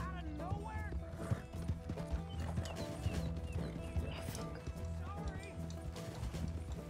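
Horse hooves clop steadily at a run in Red Dead Redemption 2, with an occasional whinny, layered over dense in-game ambience and background sound.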